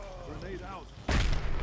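A grenade goes off in a Predator: Hunting Grounds match, a sudden loud, broad boom with a rumbling tail that comes right after a voice.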